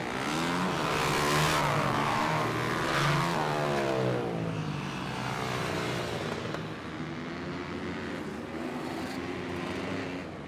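Racing bikes or quads in a 50-plus class take a hot lap around a dirt track, engines revving and rising and falling in pitch as they pass, loud and continuous throughout.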